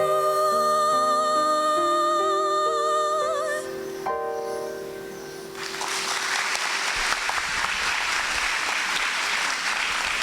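A sung melody on sustained notes fades out, and after a short lull an audience at a school prize-giving day breaks into full, sustained applause that carries to the end.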